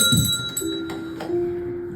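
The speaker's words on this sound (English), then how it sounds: "I shook the bell. It made the most beautiful sound my sister and I have ever heard." A small silver bell shaken once, giving a clear ringing strike that lingers as a sustained, bright tone fading slowly, heard close and alone with no talk.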